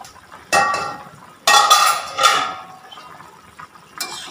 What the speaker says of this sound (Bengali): ঢাকনাটা এবার সরিয়ে ফেলবো